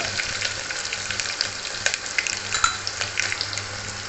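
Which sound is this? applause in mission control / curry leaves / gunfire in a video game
curry leaves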